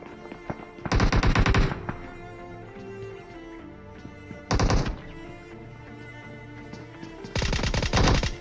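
In the video game PUBG, an automatic weapon fires three loud, rapid bursts spaced a few seconds apart over a quieter, steady game background.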